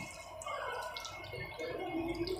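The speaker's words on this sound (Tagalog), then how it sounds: "So, lagay tayo ng kunting tubig, water." A little water poured into a pot of paksiw na bangus (milkfish stewed in vinegar with long green chilies), a steady close trickle and splash running for a couple of seconds with no talking.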